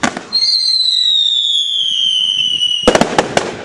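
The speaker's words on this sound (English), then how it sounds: "More fireworks. Yeah, fireworks." Bonfire night fireworks: a long whistling firework rises and fades, followed by a burst of sharp crackling bangs near the end.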